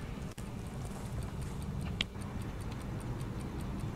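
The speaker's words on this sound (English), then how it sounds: "now he's got the ticking clock" A clock ticks steadily in the video game Hello Neighbor, with even, close, crisp ticks running throughout over a low background hum and a single sharper click near the middle.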